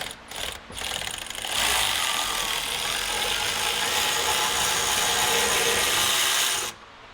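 A small impact gun spins a differential nut off a Nissan 350Z. A loud, steady mechanical whirr and rattle runs for about five seconds without pause, then cuts off abruptly, with no talking.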